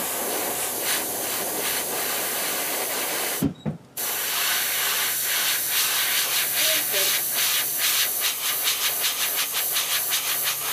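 An airbrush or spray gun sprays orange paint onto a bluegill-pattern fishing lure with a steady, loud hiss that breaks briefly, then resumes in pulsing bursts.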